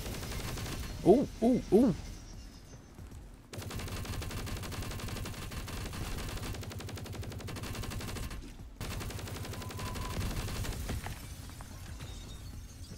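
Rapid sustained turret gunfire in the zombie shooter game CWZ, a dense continuous mechanical rattle lasting many seconds with a short break, after a brief vocal exclamation.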